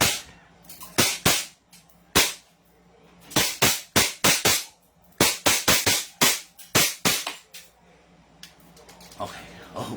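A 2011 5.1 Trex Black pistol fires at a target range: a long series of sharp, loud cracks, some spaced apart and others in quick clusters, with quiet gaps between.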